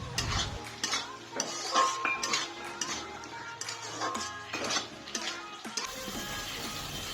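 A spoon stirs pumpkin and sugar into green beans and potatoes in a pan, making repeated scrapes and light taps against the metal over a soft, steady sizzle, close up.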